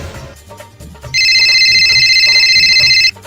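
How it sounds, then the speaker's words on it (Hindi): A phone's electronic ring trills steadily for about two seconds, loud and close, over faint background murmur. "अरे ये किसका फोन आ रहा है फिर?"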